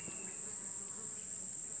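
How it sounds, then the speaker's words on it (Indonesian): Honey bees buzz around a log hive taken over from stingless bees, giving a steady, close insect drone with a high whining edge that continues throughout, with no talking. "bukan kelulut yang mendiaminya, tetapi lebah madu ini merebut"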